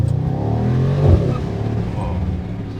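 A 2026 Mercedes-AMG GT 63 with a loud aftermarket exhaust revs, a deep burbling rumble that swells briefly to a throaty peak and then settles back to a steady low drone, heard close up.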